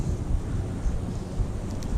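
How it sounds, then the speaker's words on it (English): Wind gusts buffet the microphone on a wooded nature trail, producing a steady low rumble with faint rustling, fairly quiet and continuous with no talking. "It's kind of windy today."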